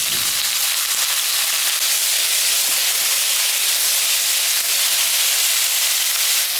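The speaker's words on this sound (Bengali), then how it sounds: "ফুলকপিটা ভাজা ভাজা হয়ে গেছে।" Cauliflower frying in mustard oil in a wok gives a loud, unbroken, close hissing sizzle that holds evenly throughout, with no stirring strokes standing out and no talk.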